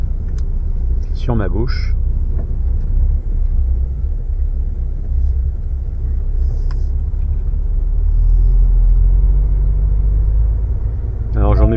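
A truck's engine rumbles steadily as the lorry sets off at dawn toward the Metz region, a low continuous drone with occasional brake hiss, while someone talks over it near the start and end.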